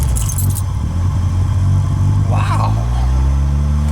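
Car engine started after sitting in snow, revving hard near 3000 rpm in a loud, close, sustained roar with a slight rise in pitch; a man exclaims once over it.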